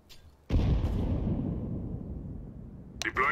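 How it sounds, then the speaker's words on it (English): A grenade goes off in Counter-Strike: Global Offensive after a short quiet lead-in: a sudden loud blast that rumbles and fades over a couple of seconds, followed by a brief burst of game sound. "Grenade out."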